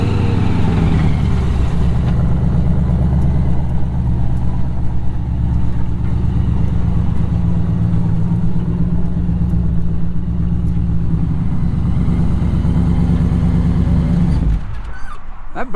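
A four-wheel drive vehicle in quad mode with locked hubs runs a steady, loud engine drone for about fourteen seconds, then cuts off sharply near the end.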